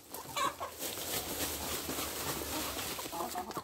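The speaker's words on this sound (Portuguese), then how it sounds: "Aí tem as galinhas rodia, que é as botadeiras." Laying hens cluck and chatter together in a farmyard pen, a steady busy flock sound close by with overlapping calls and a brief louder squawk near the start.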